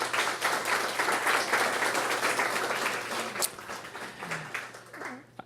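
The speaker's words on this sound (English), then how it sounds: "Please give them both a round of applause." Audience applause at a Louisville stop of a culinary tasting tour, a dense, steady wash of many hands clapping close and loud, thinning and tapering off toward the end.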